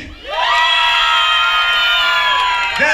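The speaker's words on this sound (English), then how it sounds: "By round of applause," A crowd at a cruise beach party erupts in loud, sustained cheering and shouting after a brief quiet start, voting for a team.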